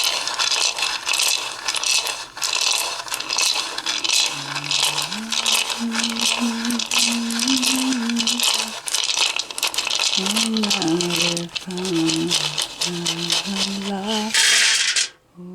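Small hard objects clatter and rattle continuously as they tumble out, with a soft melodic tone and a voice in the background.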